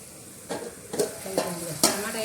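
Tomatoes cook in a pan with a faint sizzle underneath, while a utensil stirs them in four distinct scraping strokes spaced about half a second apart.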